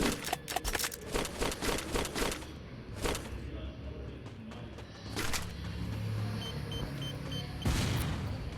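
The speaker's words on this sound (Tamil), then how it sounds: "இந்த கன்னி வெடியாலெல்லாம் என்ன ஒன்றும் செய்ய முடியாது." Landmine explosions in a video game burst out as a rapid series of sharp, booming blasts, with heavier detonations around the middle and near the end over a constant rumbling game backdrop.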